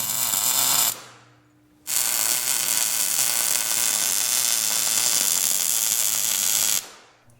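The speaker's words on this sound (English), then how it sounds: "then we're gonna weld here, and then you'll have a removable tube" Steel tube bar being welded, a steady loud crackling hiss that runs about a second, pauses briefly, then continues unbroken for roughly five seconds before stopping.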